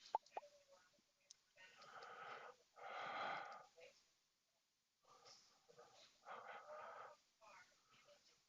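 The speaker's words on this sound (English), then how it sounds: "didn't mean to yawn in your ear again" Breathy human yawns close to a microphone during a live futures trading session, two long drawn-out exhalations with a pause between them and quieter breaths around them.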